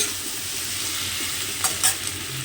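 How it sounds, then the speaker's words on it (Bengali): Onion sizzles steadily in a pan, a close continuous frying hiss with a couple of brief stirring scrapes. "পেঁয়াজটা একটু ভেজে নেই"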